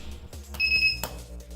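A short electronic beep sounds once, steady and clear, from a nearby home-made spot welder in a quiet room.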